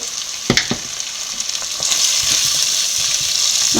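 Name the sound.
sautéing chili powder for sardine curry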